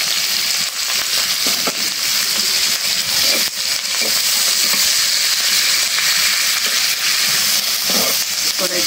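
Dried red chilies, onion and green chilies fry in a wok for a fish recipe, giving a loud, steady sizzle throughout with occasional scraping stir sounds.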